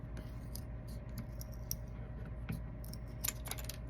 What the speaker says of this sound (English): take my scissors and just clip off part of it